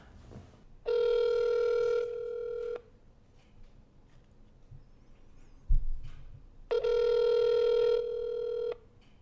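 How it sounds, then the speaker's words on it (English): Two long electronic tones, each sounding for about two seconds, separated by a quiet gap with a soft knock, like a phone line ringing on a call. "The first phone call is going to be me calling Brenna's parents."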